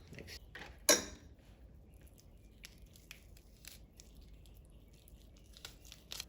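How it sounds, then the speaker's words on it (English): Raw chicken leg skin is torn and pulled away by hand, with one sharp ripping burst near the start followed by quieter wet crinkling and tugging sounds, close to the ear. "And then I'm gonna just rip it apart like that."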